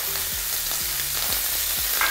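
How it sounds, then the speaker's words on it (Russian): Garlic frying in a pan with bacon, a continuous crackling sizzle close up, with a spoon scraping through it in about four regular strokes. "Мы добавим сюда чесночка."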